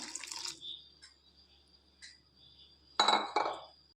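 Short splashes of water pour into a bowl of vellayappam batter, with a faint clink and a louder burst of pouring near the end.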